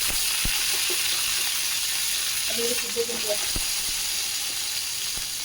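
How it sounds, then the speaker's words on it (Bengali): Cauliflower and potato pieces go into hot oil and ghee with fried whole cumin seeds, giving a steady broad sizzle throughout, with a brief burst of stirring and clatter midway and no talk. "এখানে জিরেটা ভাজা হয়ে গেছে, আমি এখন সবজি দিয়ে দিচ্ছি"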